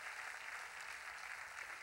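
Church congregation applauding during a Sunday worship service, a dense, steady wash of clapping that fills the room without pause, with no speech heard over it.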